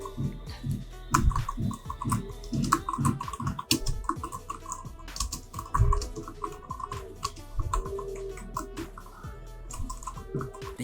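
Typing on an iClever DK03 Bluetooth keyboard produces a steady stream of soft, quick key clicks, close and fairly quiet, with uneven rhythm throughout.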